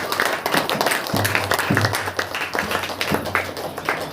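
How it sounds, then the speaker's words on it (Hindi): A church congregation claps hands together at a Saturday worship meeting, a dense run of loud, rhythmic claps with a few voices mixed in. "ताली बजाकर"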